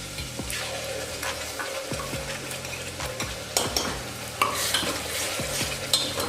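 Ground masala frying in oil while being stirred for a Kolhapuri misal, with a steady sizzle broken by repeated scraping strokes of a spoon against the pan.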